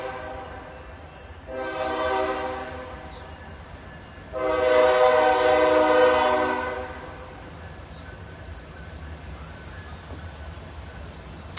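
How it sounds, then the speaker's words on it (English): Two long blasts of a train horn in Egypt, the second louder and longer, over a steady low rumble of a passing train. "Because just every few minutes the train goes through."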